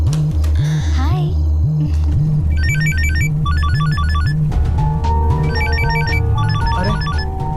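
A mobile phone ringtone in a Telugu comedy film scene, plays as a repeating electronic melody of bright chiming notes over a pulsing low beat and background score.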